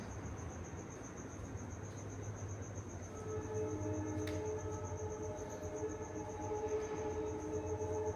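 A train at a nearby railway station rumbles and hums at a distance, growing slightly louder partway through, with a steady high insect-like whine over it and no speech.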